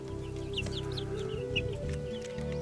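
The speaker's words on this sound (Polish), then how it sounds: "Dwie kurki wyjadają końcówki rodziny mrówek tam było bardzo dużo mrówek w tym pniu" Green-legged partridge hens cluck softly and repeatedly while pecking ants out of a stump, their short calls scattered over a steady background hum.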